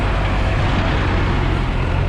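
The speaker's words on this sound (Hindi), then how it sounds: "बर्फ निकालने वाला ट्रैक्टर," A snow removal tractor on a street in Saint Petersburg gives a loud, steady, close engine rumble with broadband road noise, continuous throughout and without any talk.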